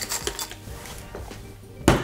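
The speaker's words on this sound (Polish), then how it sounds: "Do szkła od wina wrzucam dużo kruszonego lodu." Crushed ice tumbling into a wine glass while mixing a Porto Cobbler cocktail, a few light clinks and rattles followed by a louder crunching clatter near the end, close up.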